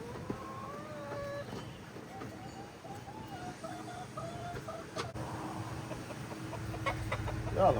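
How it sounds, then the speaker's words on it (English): Chickens clucking softly as they come out of a backyard coop, a few scattered calls over a steady background hum, fairly quiet and close. "As you can see, the chicken's coming out now,"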